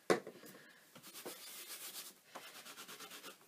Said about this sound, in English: now I'm going to get my Stampin' scrub and just wash off my my stamp